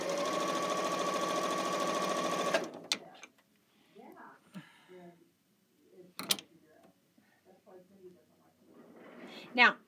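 A sewing machine stitches quilt blocks in a fast, steady buzzing run for about two and a half seconds, then stops, leaving a few faint clicks and handling noises.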